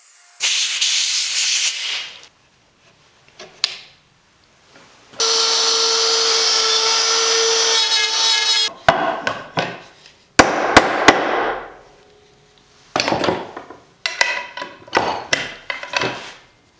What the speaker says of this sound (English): I've got the plunge router set up to do that in 2 steps